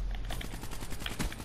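Gunfire in a team deathmatch shooter video game: rapid, close bursts of shots fired in quick succession, loud and continuous across the short stretch.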